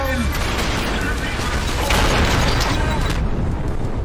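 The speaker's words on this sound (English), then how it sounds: "Stop shooting me!" Gunfire in the shooter video game Trepang2: a dense, continuous barrage of loud shots and blasts that fills the whole stretch without pause, with a brief swell of heavier booms midway.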